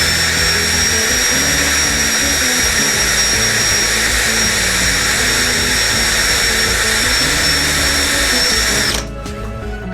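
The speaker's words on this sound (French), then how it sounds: "Une mèche de 3 mm, visseuse chargée. Et on y va, on perce" A charged cordless drill runs a 3 mm bit through aluminium on an integral camper van, making a loud, steady high whine for about nine seconds before it cuts off near the end.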